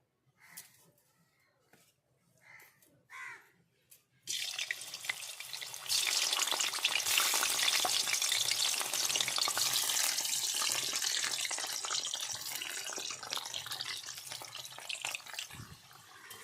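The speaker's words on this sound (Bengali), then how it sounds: "এবার আমি আলুগুলো ভেজে নেব।" Potatoes frying in hot oil for chicken biryani: after a few quiet handling knocks, a loud hissing sizzle bursts in as they hit the pan, then continues as a dense, close crackle that slowly settles.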